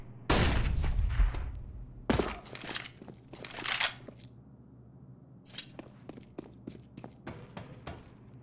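A flashbang grenade in a video game: a loud, close burst opens, followed by several further sharp bangs and crackling impacts at irregular intervals, with quieter clicks and shuffles between them.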